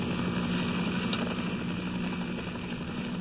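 A helicopter in the video game Half-Life, a steady droning rotor hum with a low pulsing thrum, continuous and fairly loud with no speech.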